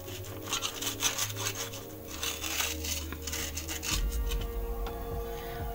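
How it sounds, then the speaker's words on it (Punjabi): A knife saws back and forth through a toasted mixed vegetable sandwich, close crunchy scraping strokes repeated in a rough rhythm with no talk. "ਹੁਣ ਇੱਕ ਪੀਸ ਮੈਂ ਤੁਹਾਨੂੰ ਕੱਟ ਕੇ ਦਿਖਾਉਂਦੀ ਹਾਂ।"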